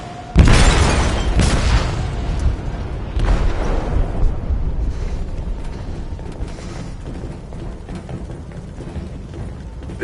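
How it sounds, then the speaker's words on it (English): A heavy boom bursts out inside a ship's hold in a video game, a sharp blast followed by rumbling, creaking mechanical debris and metallic rattles that slowly fade over several seconds. "They detonated an explosive in the hold."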